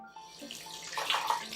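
A tap running into a kitchen sink while dishes are washed up after cooking fried shrimp, a short close splash and hiss of water that grows louder toward the end.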